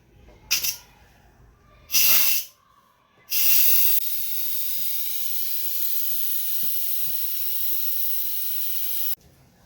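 Von electric pressure cooker venting steam after cooking chicken: two short hissing bursts, then a loud continuous rushing hiss lasting about five seconds before cutting off abruptly, close and alone.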